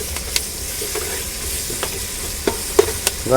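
Ginger paste frying in hot oil while being stirred in a pan for capsicum fry, a steady close sizzle with scattered scrapes and taps of the spoon.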